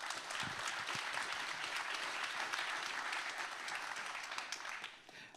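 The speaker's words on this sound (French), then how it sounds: "Je vous propose de les accueillir et de les applaudir bien fort" Dense, sustained applause from a conference audience at a talk on brain and motivation, steady for about five seconds before tapering off at the end.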